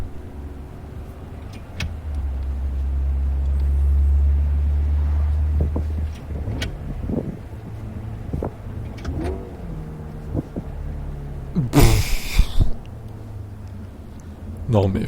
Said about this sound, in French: le bruit on dirait vraiment que c'est une thermique alors que c'est une électrique